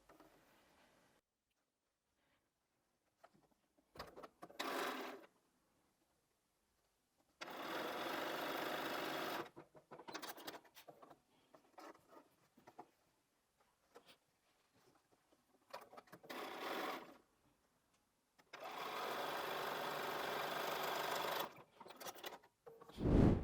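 A sewing machine stitches quilt block pieces in several separate bursts of whirring, with quiet pauses and small handling clicks in between, heard close and alone.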